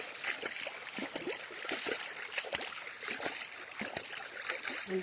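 Water flows through a field irrigation channel among vegetable plants, a continuous close gurgling trickle with small splashes throughout.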